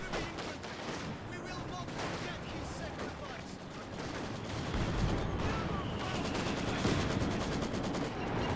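Soviet Maxim machine gun firing in Company of Heroes 2, a long stream of rapid rattling bursts mixed with other distant gunfire and battle noise, fairly quiet and continuous.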